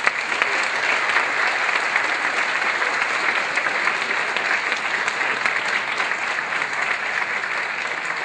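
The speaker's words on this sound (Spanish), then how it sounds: "Un aplauso a Roberto." Sustained applause from an audience at a sociology faculty event, a dense, even wash of clapping hands that holds steady and fairly loud throughout with no voices standing out.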